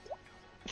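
A person imitates dripping water with the mouth, making a few short, quiet watery plops and droplet sounds close to the microphone.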